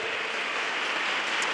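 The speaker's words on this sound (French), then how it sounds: "Clap offering to the Lord." A church congregation claps together as an offering to the Lord at a salvation, healing and deliverance crusade in Yaoundé, a dense, continuous wash of many hands from a large crowd.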